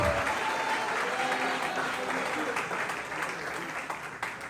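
A church congregation claps and applauds during a worship service, a dense, steady wash of many hands sustained throughout with faint voices mixed in.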